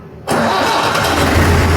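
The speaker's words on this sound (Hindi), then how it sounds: "ये हमारा ट्रैक्टर स्टार्ट हो गया।" A 2018 New Holland 640 tractor engine fires up after a moment of quiet, jumping straight into a loud, close, rough diesel idle that holds steady.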